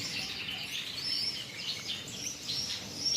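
Gouldian finches kept in cages give soft, thin, high chirps and short tweets over a quiet background hiss, faint and fairly continuous.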